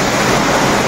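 Water spilling and dripping from above at Elephant Falls waterfall in Meghalaya, a steady broadband rush with no clear separate drops, loud and continuous throughout.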